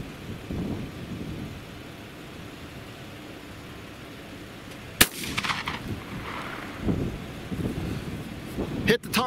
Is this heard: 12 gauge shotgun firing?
yes